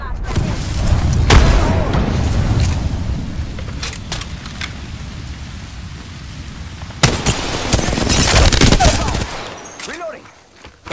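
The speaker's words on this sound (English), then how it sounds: "Grenade!" Apex Legends combat: a grenade bursts with a deep boom amid a rolling rumble, followed by scattered gunshots and a second heavy blast-like swell, all loud and close.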